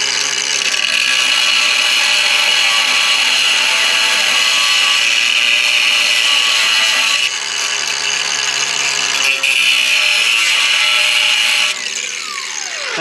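Close, loud continuous cutting on the old exhaust of a 1968 Ford Thunderbird with a 429 Thunderjet big block, a steady high-pitched power-tool whine that shifts pitch a few times, with no talk.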